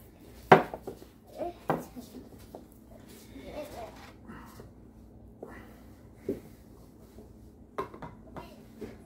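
Empty tin cans being propped up for a homemade soup-can stove clank and knock in scattered metallic taps, with a person talking between them.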